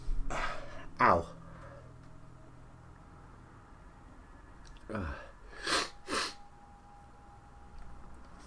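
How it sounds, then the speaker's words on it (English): A person sneezes several times at close range during a live gaming stream, with a couple of sharp bursts early on and a quick cluster of two or three more later, each over a faint steady background hum. "Oh, I think I need to sneeze."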